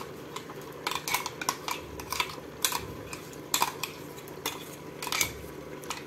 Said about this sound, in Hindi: कीमों को भूनेंगे 3-4 मिनट तक इस तरह चलाते हुए